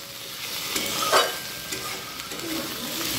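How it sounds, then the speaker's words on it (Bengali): Mushrooms frying with onion and chilli in a pan, a steady sizzle with a brief louder stirring scrape in the middle, close by and without talk. "আমারও মাশরুম ভাজা হয়ে গেছে পেঁয়াজ লঙ্কা দিয়ে"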